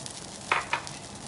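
Glass noodles with egg and cha-om being stir-fried in a pan, with two short bright scraping, sizzling strokes of the spatula over a low steady hiss.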